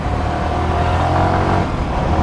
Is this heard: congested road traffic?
yes